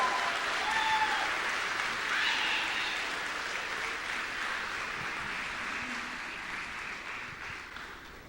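Sustained congregation applause in a church service, a dense wash of many hands clapping that slowly fades over several seconds.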